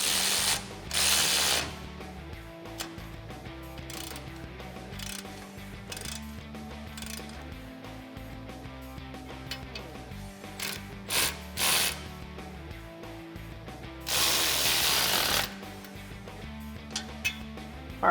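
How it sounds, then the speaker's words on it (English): A ratchet with a 15 mm socket tightens exhaust clamps on a 2015-2020 Ford F150 3.5L EcoBoost, giving rapid close clicking runs in several bursts separated by short pauses and scraping handling noises. "take my 15 mil socket and tighten up my clamps once I get them aligned"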